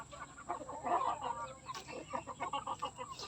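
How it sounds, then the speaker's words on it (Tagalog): Several chickens, five hens and a rooster, cluck in busy, overlapping bursts, close by and fairly loud, with no talking. "Ayan, dami kaming alagang manok."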